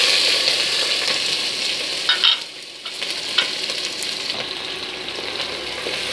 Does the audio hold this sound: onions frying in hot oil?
yes